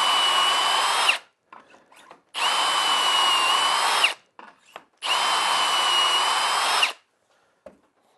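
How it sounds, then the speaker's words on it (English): A power drill whines in three long bursts of a few seconds each, boring holes into wood for a woodturning tool rack, with short quiet gaps and small clicks between. "let's start drilling some holes"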